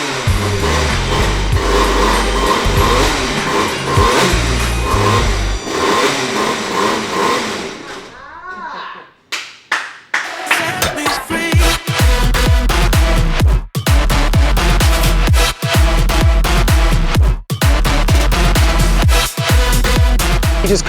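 A superkart engine buzzes loudly at first, cuts out, then splutters back to life and revs hard in a string of rising, high-pitched surges, close and dominant.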